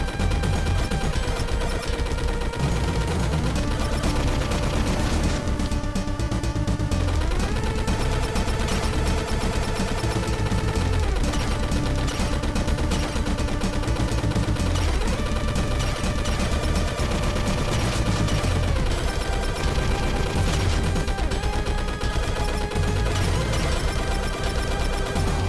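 Boss gunfire in the video game Super Cyborg: dense, continuous rapid shooting over loud game music, steady and unbroken for the whole stretch.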